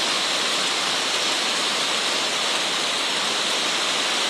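Heavy storm rain pours down in a dense, steady roar, mixed with rushing floodwater, loud and close throughout with no voices.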